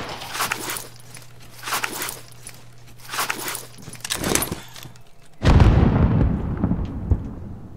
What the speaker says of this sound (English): somebody shooting out here somewhere